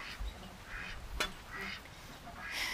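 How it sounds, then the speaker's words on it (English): Several ducks quack in short bursts, moderately close, with a sharp click partway through and a background hiss. "Ducks are enjoying themselves right now. Quack, quack, quack, quack, quack, quack."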